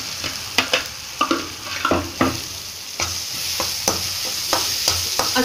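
A mixture of peas and cauliflower is stirred in a hot frying pan, giving a bright sizzle and a series of distinct scraping spoon strokes at an uneven rhythm.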